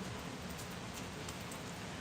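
Steady rain falls on a cold, damp day in Coos Canyon, a dense, even hiss of drops on surfaces that runs unbroken, with a few faint brighter patters and no one speaking.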